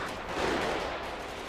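Gunfire crackles in a GTA RP shootout with police, a dense, steady burst of shots in a noisy wash that holds at a moderate level throughout, with no clear speech.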